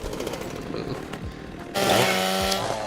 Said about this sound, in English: Here as well is the two-handed chainsaw.